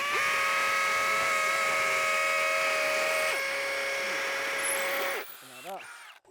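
A Milwaukee cordless power tool runs in a side-by-side test against a Flex tool, giving a loud, steady motor whine that holds for about five seconds before cutting off, followed by brief voices.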